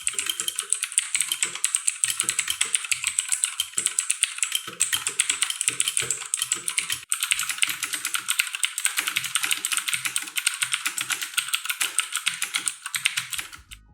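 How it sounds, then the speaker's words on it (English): Typing on an Aukey KM-G7 mechanical keyboard and a HyperX Alloy FPS with Cherry MX Blue switches gives a fast, steady stream of crisp, close clicky keystrokes that runs without pause and with no talking. "Here's a quick sound comparison between this keyboard and the HyperX Alloy FPS"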